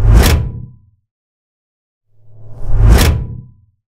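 Two loud layered cinematic whoosh hits, each a fast airy rush that swells into a deep booming impact and then fades, separated by a clean silent gap.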